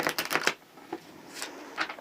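Tarot cards being shuffled by hand: a few quick riffling bursts up front, then softer, sparse card slides and taps, close and fairly quiet with no talking.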